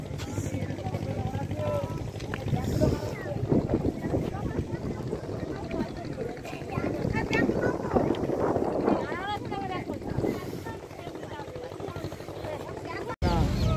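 A small passenger boat pulls away from the ghat at Dhamakhali, its engine chugging low and steady under gusty wind buffeting the microphone, while voices chatter nearby.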